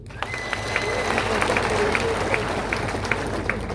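Large crowd at a political rally in Kenya clapping steadily for a few seconds, moderately distant, with scattered louder claps and faint voices.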